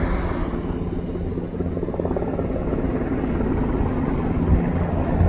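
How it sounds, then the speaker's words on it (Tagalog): A helicopter flying overhead during Saudi National Day, its steady low rotor thrum and engine drone filling the whole stretch, loud and continuous with no letup. "Helicopter."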